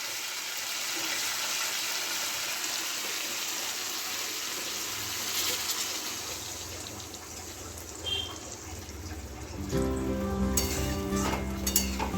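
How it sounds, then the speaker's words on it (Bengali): Water is poured into a pan of Katla fish curry, a soft continuous hiss and trickle that turns into louder bubbling near the end, with faint clinks. "আমি এবার জল দিয়ে দেবো"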